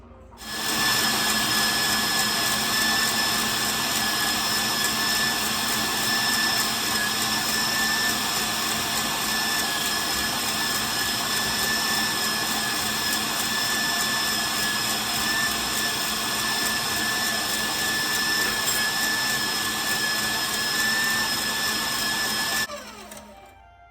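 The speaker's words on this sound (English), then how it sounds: "I'm going to add a little bit more sugar, just real gradually as my mixer continues." Electric mixer whipping meringue for a vanilla meringue cake while sugar goes in gradually, a steady loud motor whine with a constant hum that runs unbroken for over twenty seconds, then stops.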